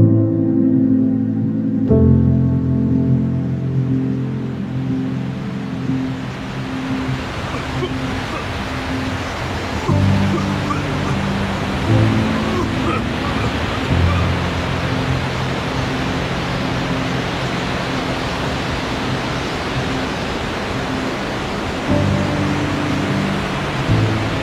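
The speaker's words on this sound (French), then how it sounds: "Les seules traces de vie étant les vagues qui se brisent contre le sable." Waves breaking on the sand of a deserted beach near Fogna, Vietnam, a steady broadband wash of surf rolling on continuously, with a low tonal music bed running underneath throughout.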